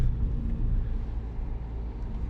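A Dacia car with a single-clutch gearbox on a road test, heard as a steady low engine and road rumble from inside the cabin, continuous and fairly loud throughout.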